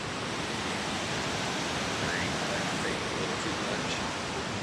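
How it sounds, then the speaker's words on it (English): A loud waterfall roars on a remote creek as a steady, dense wash of noise that stays constant and close throughout. "I can't hardly hear me over this waterfall"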